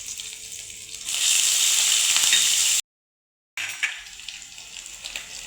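Mustard seeds, cumin and curry leaves hit hot oil with a loud, steady sizzle and crackle that holds for a couple of seconds, breaks off into a short silence, then returns as a lighter spattering fry.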